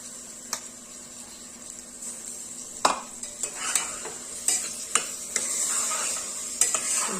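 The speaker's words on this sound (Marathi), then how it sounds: "हे सर्व व्यवस्थित असं परतून घ्यायचं" Soaked rice and dal are sautéed in a pan for rasam rice: intermittent scraping stir strokes and clinks over a light sizzle, close up.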